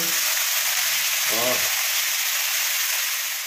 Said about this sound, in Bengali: এত বড় বড় চিংড়ি ভাজা হচ্ছে।